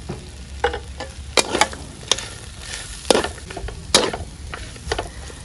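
Lemongrass, chopped into small pieces, and chili dropped into a frying pan, with a steady close sizzle under stirring, scraping and a few sharp clattering strikes of a utensil against the pan.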